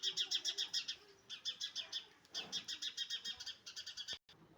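Sparrows chirping while feeding, with rapid, repeated bright chirps in quick bursts, close and clear, pausing briefly between runs.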